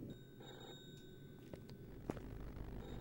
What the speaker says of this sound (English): There's a phone ringing.